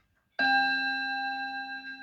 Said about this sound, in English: I'll do the chimes now, see if we got it right.